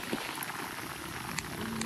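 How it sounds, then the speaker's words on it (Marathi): Rain falls steadily on a hillside trail near Karnala, a constant close hiss with scattered drop patters throughout, no talking. "आणि जरा पाऊस आलाय."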